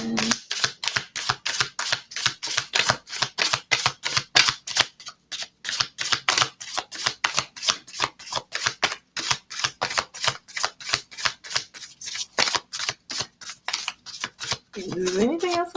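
A deck of tarot cards is shuffled up close in a fast, crisp riffle of rapid snapping clicks that runs almost without a break, with a brief pause partway through.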